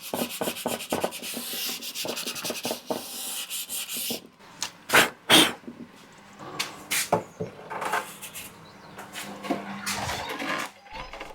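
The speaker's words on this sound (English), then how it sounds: "I'm ready to do more sanding." Wood is sanded by hand with steady, rapid rubbing strokes, close and loud, first in a quick even rhythm and then in irregular bursts with pauses and a few knocks.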